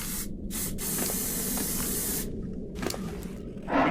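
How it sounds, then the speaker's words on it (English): Bug spray hissing out in bursts inside a swamp cave in the game Ark, a broad steady spray interrupted by brief gaps, loud and close with no talking. "I'm gonna go ahead and hit the extra dosage of Bug Spray"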